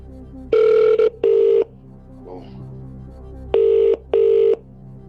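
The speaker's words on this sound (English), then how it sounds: "Calling Jess Ice." A smart speaker plays a phone call ringing tone: four loud, steady tone bursts in two pairs separated by a pause, with faint background noise between.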